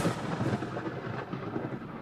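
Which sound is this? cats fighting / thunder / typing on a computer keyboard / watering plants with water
thunder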